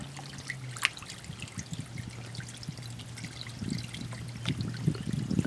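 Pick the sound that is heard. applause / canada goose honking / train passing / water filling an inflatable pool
water filling an inflatable pool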